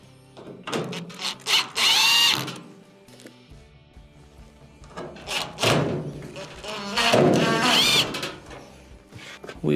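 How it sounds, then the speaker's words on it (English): A Phillips screwdriver drives two screws back into a dryer panel during a repair, bursts of scraping, turning and clicking with thumps between them, close by. "Reinstall our 2 Phillips screws."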